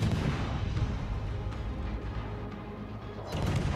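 Naval gunfire from the Neustrashimy destroyer in a video game, with a few dull booming shots over a rumbling, noisy battle background, quieter in the middle and louder bursts near the end.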